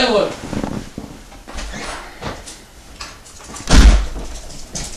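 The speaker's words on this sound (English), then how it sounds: "Somebody's at the door." A door opens with a single solid thud partway through, heard among people talking in a room.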